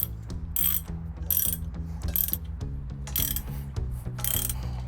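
Metal screws being tightened onto a new plumbing elbow with a ratcheting tool, giving a steady run of quick, close clicking strokes in repeated bursts over a low mechanical hum, with no talking.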